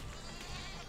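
A sheep in the video game Besiege lets out a short, faint bleat, buried in steady background noise.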